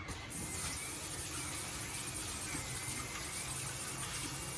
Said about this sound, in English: Gonna wash our hands again.